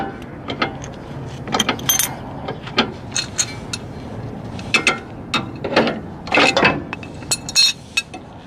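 Ratchet clicking in short bursts while bolts come off Nissan 240SX tension rods, with metallic clinks and clatter of tools between spurts, close and fairly loud, no talking.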